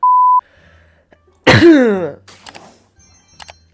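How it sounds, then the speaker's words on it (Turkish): A single loud, close sneeze bursts out suddenly after a short electronic beep, followed by a few faint breathy sounds and small noises in a quiet room. "nasıl bu kadar hapşırabiliyorsun kendi kendine?"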